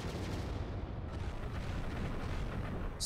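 Loud, continuous rumbling cannon fire from the video game Final Theory, heavy booms blurring together into a dense roar with no pauses.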